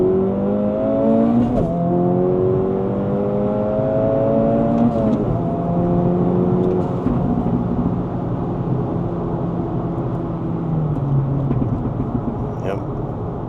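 Turbocharged 2024 Acura Integra Type-S pulling hard through second gear in 95-degree heat, engine note rising steadily with clear gear-change dips, loud and continuous from the car with faint talk mixed in.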